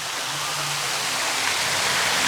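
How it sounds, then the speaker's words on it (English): Steady broadband rush of running water, like a fountain splashing continuously, close by and fairly loud throughout, at an outdoor theme park. "Listen to that running water."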